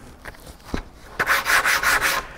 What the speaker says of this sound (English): When you're sanding this edge, you gotta make sure that you're not just doing this outside edge